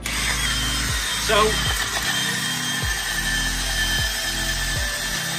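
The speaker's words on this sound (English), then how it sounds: "giving that surface a good clean up, get any surface rust and dirt off it, make sure it's clean" A power tool cleaning surface rust and dirt off the front prop shaft flange of a Land Rover Discovery 2, a whirring grind that repeatedly revs and drops in pulses, with a person speaking briefly.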